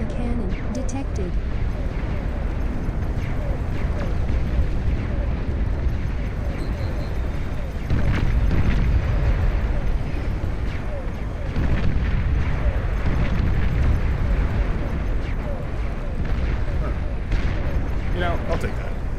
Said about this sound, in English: Long-range plasma cannon detected.